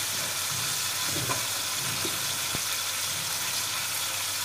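Onions and powdered spices with salt, turmeric and red chilli roasting in a pan give off a steady, close sizzle throughout, broken by a few soft stirring scrapes and a faint knock, with no voices.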